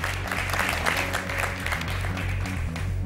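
Audience applause at a TV talent show, a steady wash of clapping over a loud low musical bed that runs throughout, with no clear pauses.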